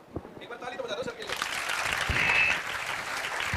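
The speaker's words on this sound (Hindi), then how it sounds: "ये लो एक बार ताली तो बजा दो सर के लिए।" Audience clapping for a teacher at a class or gathering, starting sparse and swelling into sustained, fairly loud applause that fills the room; a voice is heard briefly near the start.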